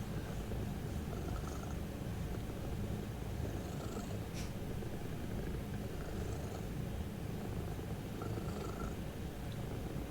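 A cat purrs loudly and continuously, a close, rumbling rhythmic purr that runs without pause, with a faint click partway through.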